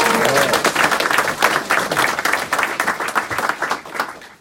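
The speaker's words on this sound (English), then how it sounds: "So let's have a big round of applause for the committee." A roomful of people at a community library event breaks into steady, dense applause for a committee, the clapping continuous and fairly loud throughout, fading slightly near the end.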